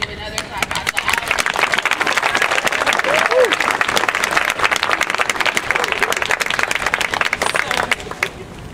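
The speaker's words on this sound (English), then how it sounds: "I want to give another clap out to all of" Sustained audience applause at an anti-racism rally, a dense steady wash of many hands clapping for about eight seconds before tapering off at the end.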